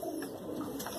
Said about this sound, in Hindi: और भी बहुत सारे कबूतर है,